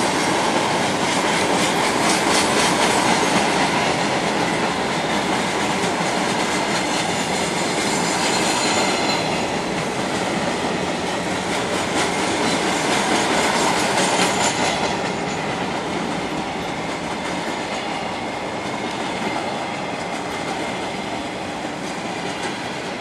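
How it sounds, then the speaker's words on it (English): A short train rumbles past close by in Bessemer, Alabama, wheels clattering steadily over the rails with a continuous roar that stays loud throughout. "It's a short train."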